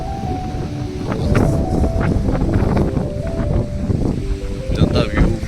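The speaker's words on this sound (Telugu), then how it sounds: "క్రేజీ అంటే క్రేజీ గాలి వస్తుంది ఇక్కడ." Strong wind buffets the microphone at a seaside sunset viewpoint near Vivekananda Rock Memorial, a continuous loud rushing roar with gusts throughout, while people talk in the background.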